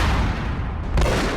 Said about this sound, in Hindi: तो उसने अंधाधुंध गोलियां चलाना शुरू कर दी